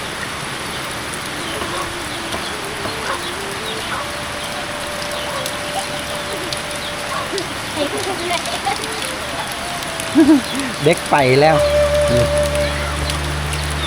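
Steady rain falls over rural countryside in the rainy season, a constant soft patter that lasts throughout, with people talking over it and a brief tonal sound rising near the end.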